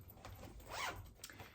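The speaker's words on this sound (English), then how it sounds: "My orange zipper." An orange zipper on a gum wrapper bag is pulled in one smooth, rising and falling zip lasting under a second, fairly close and quiet, with light handling rustle around it.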